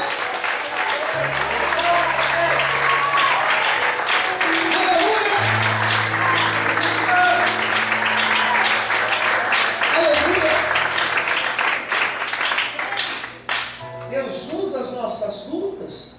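A crowd claps steadily and loudly for a long stretch, with low sustained musical tones underneath.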